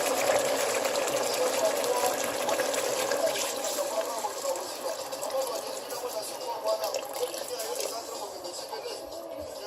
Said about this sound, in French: Et puis je vais ajouter un peu d'eau.